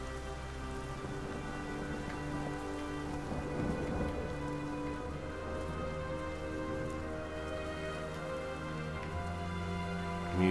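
Steady rain with rolling thunder fills a stormy outdoor scene in the video game Everybody's Gone to the Rapture, a dense continuous patter with low rumbles swelling underneath and no voices.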